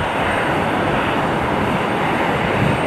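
An airliner's jet engines roar at Cleveland Hopkins Airport, a steady, dense, broadband rush with no breaks, loud and close, heard alone without talk.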